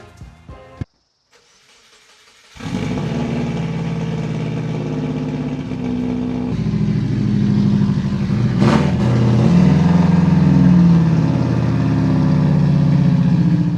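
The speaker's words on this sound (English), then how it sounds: "this whole thing really is just an excuse to fire up my rally car" A rally car engine is cranked and catches after a brief silence, then settles into a loud, close idle that rises into stronger revving with a sharp blip midway, alone without talk.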